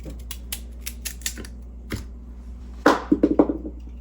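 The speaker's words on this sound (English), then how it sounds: "That was the sound of a carrot falling on the floor." A sharp thud of a carrot hitting the floor, a couple of quick bounces after it, over faint kitchen clatter.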